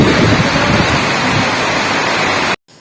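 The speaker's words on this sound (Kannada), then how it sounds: "ಎಷ್ಟು ಜೋರು ಮಳೆ ಹಾಕಂತಿತ್ತು ಅಂಥೇಳಿ" Heavy rain pours down in a loud, dense, steady roar, close and continuous, then cuts off abruptly at the end.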